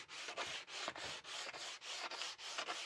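Machine oil rubbed onto a metal garden spade with a cloth, a close, steady series of rhythmic scrubbing strokes, about ten in a row, with no voices.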